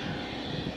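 A fixed-wing airplane taking off at Madeira Airport gives a brief, steady, full engine roar that holds at constant loudness throughout.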